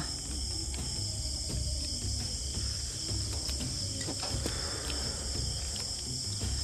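Steady, shrill insect chirping fills the night air, a continuous high buzz of crickets with a low background hum and no talking.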